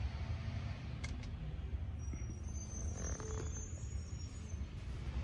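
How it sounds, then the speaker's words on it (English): A garbage truck passes in the background, a steady low rumble of engine and road noise holding through the whole stretch, with faint higher squeaks and hiss from its brakes or hydraulics. "Actually, that's a garbage truck."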